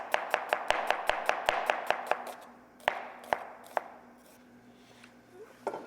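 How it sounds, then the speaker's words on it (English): Knife slicing an onion thinly on a cutting board, a rapid even run of crisp taps that slows to a few scattered cuts, close and clear with no talking. "Then we're going to give some nice thin slices."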